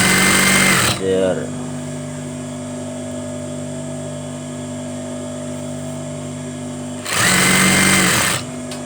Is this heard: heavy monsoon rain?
no